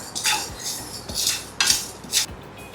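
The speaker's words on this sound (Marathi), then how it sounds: "त्यानंतर आपल्याला घालायचं आहे जिरं चमचाभर. याला छान भाजून घेऊ आपण." Cumin seeds dry-roasting in a pan, stirred with a metal spoon: a few bright scraping and clinking strokes at an uneven pace, close and fairly clear, with no talking.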